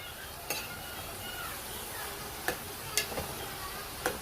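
A ridge gourd curry with lentils sizzles softly in a pan, and a spoon stirs it with a few sharp clicks against the metal. The sound is close but fairly quiet, with a low background hum and no voices.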